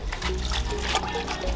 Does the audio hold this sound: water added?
yes